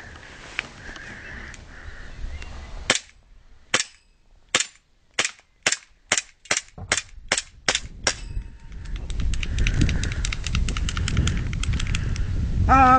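A KWA Glock 17 airsoft pistol fires about a dozen sharp snapping shots at a steady pace, each a crisp close crack. Rustling and wind noise take over once the firing stops.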